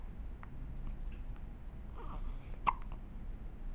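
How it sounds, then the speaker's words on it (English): A small child hiccups once, a sharp, short catch of breath standing out near the end of an otherwise quiet indoor stretch with faint babbling sounds. "You're funny with the hiccups."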